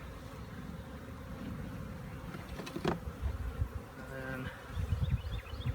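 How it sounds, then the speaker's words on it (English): Honey bees buzz in a swarm trap during a cutout, a continuous low droning hum under the work, with a few louder handling knocks and a brief spoken word. "there's a lot of bees still in there"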